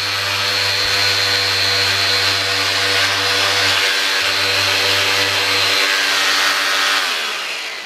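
Sandpaper on a power tool grinding into the edge of a motorcycle fork during restoration, a continuous loud motor whine with a strong steady hum and buzzing harmonics, dipping briefly and trailing off near the end.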